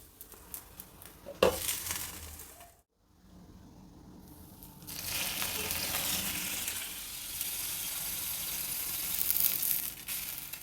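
Cucumber dosa batter frying in a little oil on a hot pan, a steady broadband sizzle that swells loud after a short silent break and hisses on without any talk.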